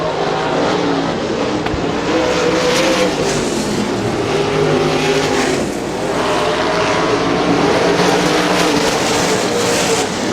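Winged and non-winged sprint cars race at Butler Battlegrounds in Quincy, their engines blending into a loud, continuous, dense roar that holds steady for the whole stretch, with slight swells as cars pass.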